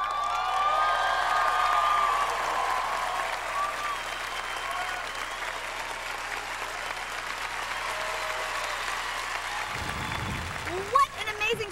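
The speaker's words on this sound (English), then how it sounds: "Thank you very much for the applause." Applause at a 2005 video game awards show, a moderate sustained crowd clapping heard at some distance, easing off late with a brief louder burst near the end.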